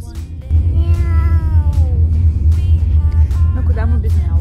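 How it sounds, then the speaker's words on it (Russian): A cat meows repeatedly close by, several drawn-out tonal mews in succession over a steady low engine-like hum indoors, no speech on top. "Ну куда мы без мяу?"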